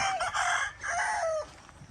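A rooster at a game farm crows loudly and close, two drawn-out calls with a short break between, with no talk.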